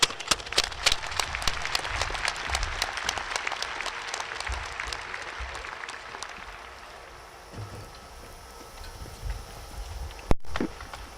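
Graduation crowd at Signal Mountain High School applauds for the graduates, a burst of clapping that thins and fades to scattered claps and quiet room noise, heard from some distance.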